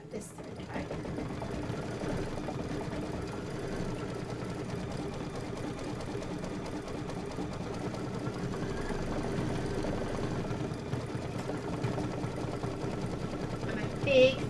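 A sewing machine runs continuously during quilting, a steady mechanical whir with a rhythmic needle chatter, moderately close and even in loudness, with a brief knock at the end.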